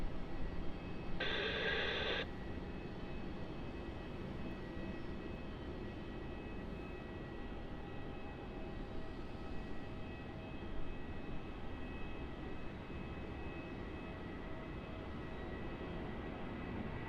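An airliner landing at Melbourne Airport on runway 16 produces a steady, broad engine roar that holds evenly throughout. A short radio blip sounds near the start. No talk is heard.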